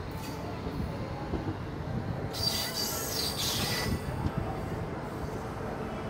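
A passenger train pulls into Kamakhya station near Guwahati, with continuous rumbling wheels on rails and a burst of high, shrill wheel squeal in the middle, fairly close and steady, with no talk.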